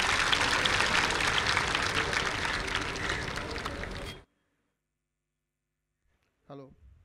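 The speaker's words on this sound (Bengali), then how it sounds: "হাততালি হোক স্যারের জন্য" Applause for a police officer at a ceremony: a dense, loud crowd clapping for about four seconds that stops abruptly, followed by silence and then a brief voice.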